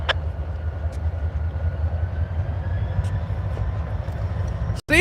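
CSX freight trains pass each other on an Alabama line, a loud continuous low rumble of rolling cars with a few sharp metallic squeals and clanks over it and a brief dropout near the end.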